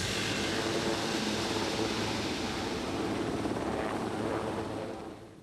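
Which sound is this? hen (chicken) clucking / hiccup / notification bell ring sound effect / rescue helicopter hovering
rescue helicopter hovering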